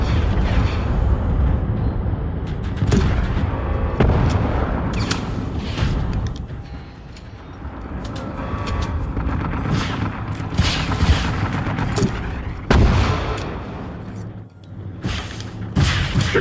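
Gunfire in Generation Zero, a loud, continuous barrage of shots and booming impacts with sharp cracks recurring throughout, a voice occasionally talking underneath.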